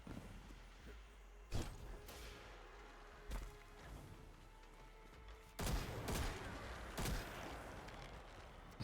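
Video game gunfire comes as several sharp, separate shots and short bursts over a low, murky game background, with no talking heard.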